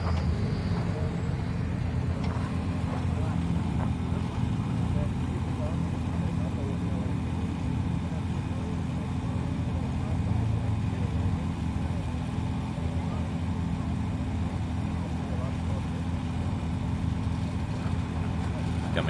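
A 4x4 off-road vehicle on beadlock wheels drives around a challenge course at the Brits 2011 national 4x4 event, its engine a steady low rumble throughout, with commentary running over it.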